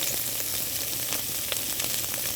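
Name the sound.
onions and garlic sautéing in a pan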